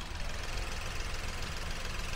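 The engine of a 2019 Datsun GO T with manual transmission, idling at a steady low rumble with faint rapid ticking, close and even throughout.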